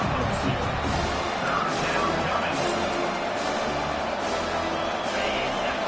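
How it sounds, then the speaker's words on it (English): Stadium crowd noise swells in the College Football 25 video game on a third-down defensive stand, a loud, dense roar that stays continuous throughout. "Decibels rising as the crowd gets behind this defense on third down."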